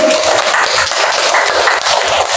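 An audience at a school gathering claps for a teacher, a dense, even patter of many hands close and loud from start to finish with no speech over it.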